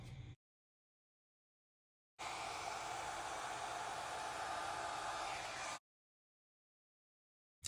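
A hair dryer blows steadily across wet acrylic paint for a Dutch pour flower, a loud continuous airy hiss lasting about three and a half seconds between stretches of silence.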